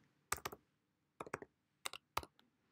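Four short bursts of computer keyboard typing, each a quick cluster of two or three crisp clicks, close and clear against a quiet room with pauses between them.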